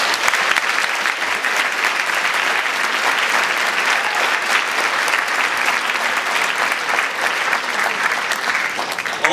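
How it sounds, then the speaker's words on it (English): Sustained, loud audience applause at a community mock crash event, dense steady clapping from a sizeable crowd continuing evenly for several seconds without letup. "A round of applause for these people."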